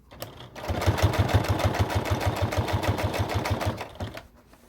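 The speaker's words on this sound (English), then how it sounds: "Look how I'm sewing close to the good, pretty folded seam." A sewing machine stitching along a folded seam to hold a zipper on a fanny pack: a fast, even run of close, loud mechanical stitching thumps lasting about four seconds, starting and stopping abruptly.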